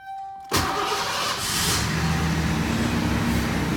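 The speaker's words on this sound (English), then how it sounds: "Starts right up." A 1987 Mercury Cougar 20th Anniversary Edition with 67,000 original miles cranks briefly and starts, its large engine catching abruptly and settling into a loud, steady idle close by, with no talking.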